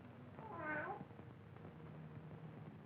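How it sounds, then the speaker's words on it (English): A cat gives a single rising-and-falling meow in a graveyard set from a 1942 film, loud near the start, then fading into a low background hum. "how often have I told you to keep that cat from desecrating my graves?"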